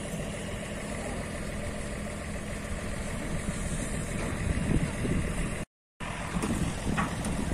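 A winch engine runs steadily as it lowers the ship KM. Baruna Sakti 02 from dry dock, a continuous mid-level drone with wind noise, briefly cut out near the end.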